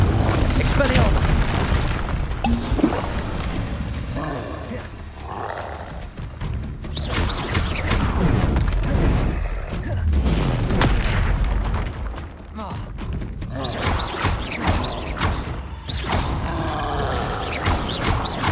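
Confringo blasting spells going off in the video game Hogwarts Legacy, a series of deep booming blasts and crackling impacts through combat noise, with voices shouting over them.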